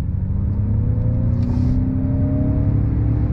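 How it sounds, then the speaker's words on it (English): A Ford F-150 Lightning electric truck pulls away hard from a green light, a steady low rumble of road and drivetrain with a faint rising electric whine, heard from inside the cab, no talking. "we're gonna go on throttle again once the light turns green"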